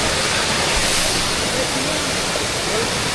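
Maruti waterfall at Chondhe in Shahapur pours as a dense, continuous hiss of falling water, loud and close, filling the short stretch without pause.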